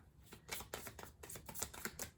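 Tarot cards being shuffled by hand up close, a rapid run of crisp riffling and slapping bursts with short pauses between them, alone without talk.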